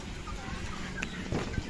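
Chickens cluck close by on a small farm where many chicks have been dying, short scattered calls over steady background noise.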